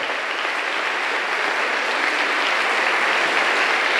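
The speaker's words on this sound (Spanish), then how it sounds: "Dale un aplauso a los buenos amigos." A crowd claps for good friends, a thick, even wash of applause from many hands that holds steady and swells slightly toward the end, with no talking over it.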